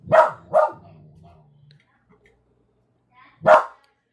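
A dog indoors during a watercolour painting session lets out two quick close barks, trailing off into a low whine, then one more sharp bark after a quiet pause.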